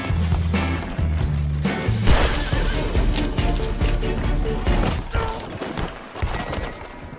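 Horses in the Red Dead Redemption 2 video game, with loud whinnying and a snort along with clip-clopping hooves and tack rattling, steady and close throughout.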